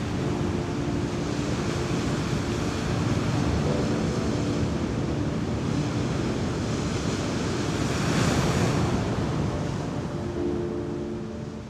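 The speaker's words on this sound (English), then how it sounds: "All year round, storms buffet Grimsey's black cliffs." Stormy sea surf crashing against the black cliffs of Grimsey, a steady, loud roar of breaking waves mixed with gusting wind buffeting the microphone, swelling slightly near the end.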